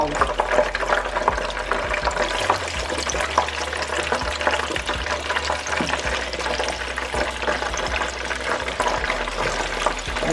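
Polish sausage and onion fry in very hot grease for a Chicago-style hot dog and Polish recipe, giving a dense, steady, close sizzle and crackle that runs unbroken throughout.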